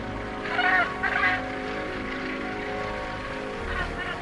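A female seabird calling to her mate over rocks at a Canadian breeding colony: two loud, honking cries close together, then a steady wash of colony noise.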